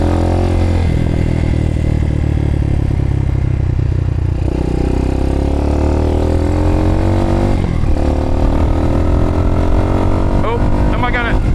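A motorcycle pulls away on the road as the clutch is feathered out, its loud, close engine droning steadily and rising in pitch under wind rush, while a rider's voice talks over it.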